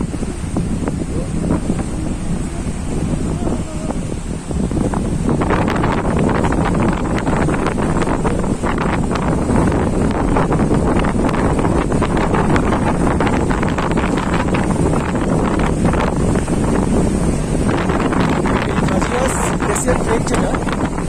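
Strong wind gusts roar across the microphone at Thajiwas Glacier in Sonmarg, Kashmir, a steady loud buffeting that runs the whole time, with a river flowing nearby.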